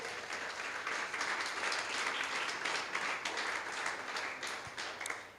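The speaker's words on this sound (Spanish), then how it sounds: "Alabe al Señor con un aplauso, por favor." Quiet, steady applause from a church congregation during a Spanish-language sermon, sounding distant and continuous for several seconds before fading at the end.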